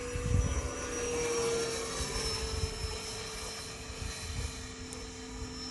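Electric ducted fan whine from an E-Flite F-18 Hornet model jet with an 80mm EDF, flying at about half throttle outdoors: a steady, moderately loud whirring tone with wind buffeting, no talk.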